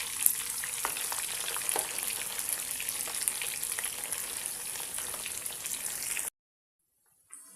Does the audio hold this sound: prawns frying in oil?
yes